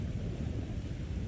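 Thunderstorm with steady rain: a continuous deep rumble of thunder under an even wash of rainfall, loud and unbroken throughout.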